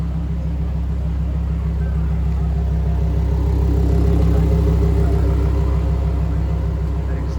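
A hypercar's engine runs loud and steady throughout, a deep rumbling exhaust drone at a busy outdoor Miami car gathering with traffic nearby, holding a sustained rev without sharp bursts.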